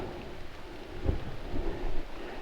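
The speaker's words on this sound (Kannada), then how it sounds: "ತುತ್ತ ತುದಿಗೆ ತಲುಪಿದ್ವಿ ಮಳೆ ಕೂಡ ಜೋರು ಬಂತು" Heavy rain falls on a forested hilltop, a steady, fairly faint hiss of rain mixed with low gusty rumbles and a brief thump, with no voices.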